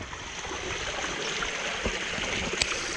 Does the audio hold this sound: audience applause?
no